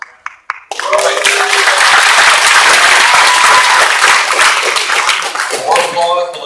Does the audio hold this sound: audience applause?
yes